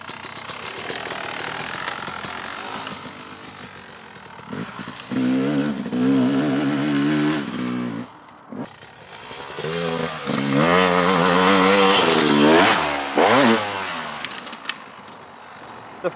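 Dirt bike engine revving and surging along a trail during suspension testing, loud and close with rising and falling throttle bursts and brief drops between pulls.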